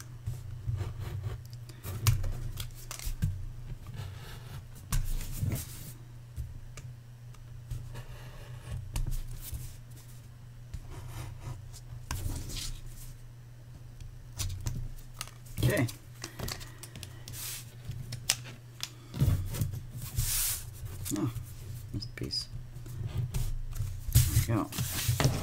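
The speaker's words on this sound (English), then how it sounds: "I'm going to use this to cut these pieces out." Paper pieces for a shadow box book being cut out by hand, a soft continuous scraping and snipping that runs steadily throughout with occasional sharper taps, sitting close and fairly quiet beneath a low background hum.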